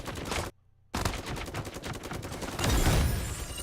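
Gunfire in the video game Super Mecha Champion: rapid bursts of automatic shots in quick succession, a brief silent gap, then a dense rattling stream, with a heavier boom near the end, loud and close.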